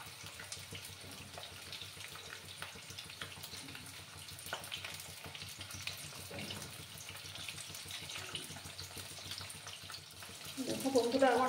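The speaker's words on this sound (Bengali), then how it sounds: "মাছগুলোকে একটু লাল লাল করে ভেজে নেব" Rohu fish pieces frying in a pan, a quiet steady hiss with faint crackles that swells louder near the end, with no talk.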